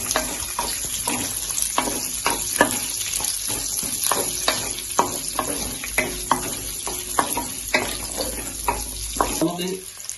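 Onions sautéing in a pan for chilli prawns, with a steady sizzle of frying broken by frequent scraping stirs in a regular rhythm, close and moderately loud, with no voices.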